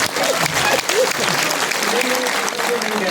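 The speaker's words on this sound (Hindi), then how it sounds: "एक बार जोरदार तालियां।" An audience at a poetry gathering claps loudly and steadily for a few seconds, with a voice faintly heard under the applause.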